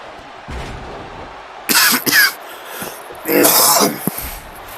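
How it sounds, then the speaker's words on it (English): Two harsh, close coughing fits, each a short cluster of throaty bursts, over faint background noise from a WWE 2K20 wrestling game. "Again, sorry about all the coughing"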